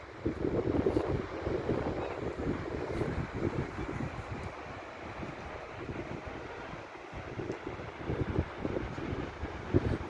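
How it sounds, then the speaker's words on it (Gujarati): Sea waves roll in at Tithal beach in Valsad, a steady low rumble of surf mixed with heavy wind buffeting the microphone, fairly loud and continuous, with no voices. "આના છે દરિયાના મોજા"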